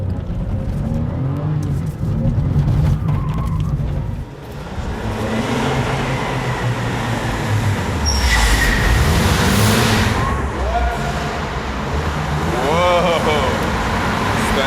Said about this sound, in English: Stunt driving at its best.